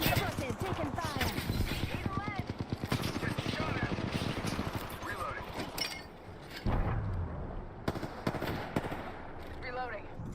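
Bursts of rapid automatic gunfire and heavy blasts in a shooter video game, loud and nearly continuous, mixed with spoken character voice lines and brief pauses between volleys.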